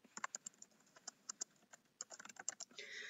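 Quick, quiet keystrokes on a computer keyboard as a comment is typed into a Word document, an uneven patter of clicks ending in a brief louder rustle.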